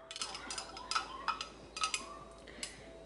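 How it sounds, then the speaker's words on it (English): Spoon stirring a batch of homebrewed kombucha tea in its vessel, giving a quiet series of light clinks and scrapes in an irregular rhythm, close by and otherwise silent. "But I'm just gonna give it a stir."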